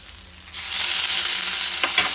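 Tomatoes dropped into a hot pan for aloo matar paneer, a sudden loud burst of sizzling that settles into a steady, close frying hiss.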